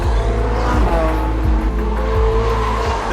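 A loud Porsche race car engine with 918-type V8 roars steadily at high revs, gear changes stepping the pitch as it passes, continuous and close throughout.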